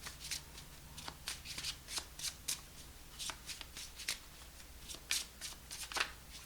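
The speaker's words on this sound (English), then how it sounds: "Off the top of the deck, next shuffle." Tarot cards being shuffled by hand during a reading, a steady run of crisp riffling bursts close up, alone without talk.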